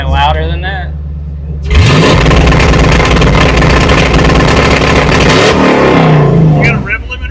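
A Ford F100 truck at a truck show roundup revs hard against a 2-step rev limiter, a loud sustained roar held for several seconds before dropping back, with people talking briefly at the start and end.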